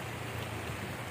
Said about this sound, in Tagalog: Umuulan pa rin, hindi tumitigil.